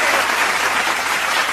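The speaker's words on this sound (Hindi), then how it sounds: "तालियां जोरदार" Loud, dense audience applause at a Hindi comedy poetry show, a continuous close burst of clapping filling the short moment without talk.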